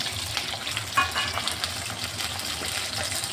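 Potatoes fry in hot oil with green chillies for a bhindi dish, a steady close sizzle and crackle with a brief stirring clatter, continuous and moderately loud.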